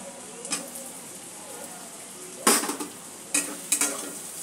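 Potatoes sautéed with spices in a pan, a soft background sizzle broken by a few sharp clinks and scrapes of a utensil stirring against the pan, close but quiet.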